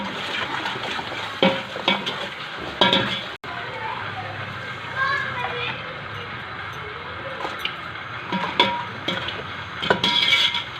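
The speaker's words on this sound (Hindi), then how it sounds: "अब इसमें गोश्त डाल के भूनेंगे" Meat being fried and stirred in a pot for chicken biryani, with a steady background sizzle, scraping and clinking of a spoon against the pan, and a few louder stirring knocks throughout.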